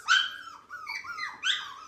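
A young puppy yelps and whines in high, wavering cries, a few rising and falling whimpers close by with no talking.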